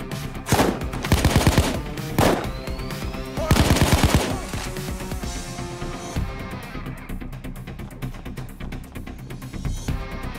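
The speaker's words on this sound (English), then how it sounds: "Shooting my way out." Gunfire in the video game Payday 2: bursts of rapid automatic fire, loud and close, with heavy volleys early on, then steadier lighter shooting over a continuous game backdrop, no talking.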